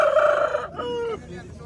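A rooster at a poultry market in Quva gives one loud, close crow with a falling tail, followed by faint background noise.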